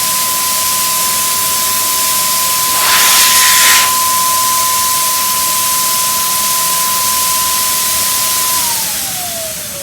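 A Wagner FLEXiO 4000 power sprayer runs with a loud, steady motor whine and airy hiss, swelling briefly mid-way as it sprays, then the pitch drops as the motor winds down.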